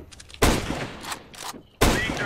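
Scout rifle gunfire in a first-person shooter: two loud, sharp reports about a second and a half apart, each with a short tail, plus a fainter shot between them.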